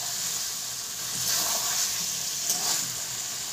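Chicken curry fries in oil in a pan, giving a soft, steady sizzle with faint bubbling that swells gently a couple of times.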